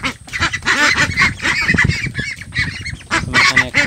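A flock of thirsty Peking Star ducks, waiting for medicated drinking water, keeps up a dense, loud, overlapping chorus of honking quacks from close by, with no pauses across the whole stretch.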